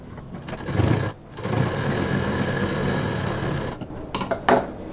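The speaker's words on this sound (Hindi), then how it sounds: "तो यहाँ डबल सिलाई करेंगे और यहाँ डबल सिलाई करेंगे।" An electric sewing machine runs a double line of stitches through fabric for a home decor gift piece, a steady close whirring hum lasting several seconds between brief pauses and handling clicks, with no voices.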